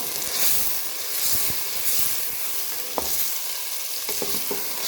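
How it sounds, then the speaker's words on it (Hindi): About a kilo of meat sizzles in a spiced masala with onion and green garlic, a loud continuous frying hiss broken by occasional stirring scrapes and clicks from the pan. "और अब हम इस गोश्त को अच्छे से भून लेंगे इस सारे मसाले में।"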